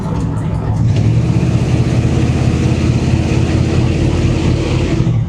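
A loud 1987 GMC Sierra 1500 pickup truck engine rumbles steadily at idle or low speed, deep and throaty, with no break for the whole stretch.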